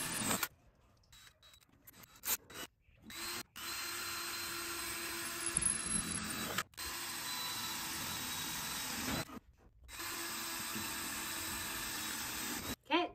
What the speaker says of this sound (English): let's drill holes in this one